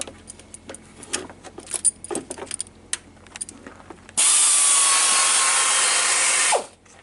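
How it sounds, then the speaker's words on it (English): Pneumatic air wrench on a diesel Mercedes thermostat housing gives a loud, sustained hiss-whir burst of about two seconds, after scattered clinks and rattles of tools and bolts. "So I got my trusty air wrench here"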